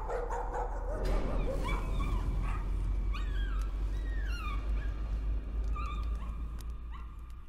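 In the horror video game Layers of Fear, a dog yips, whimpers and barks in short, high bursts repeating across several seconds over a low ambient rumble, fairly close but moderate in level.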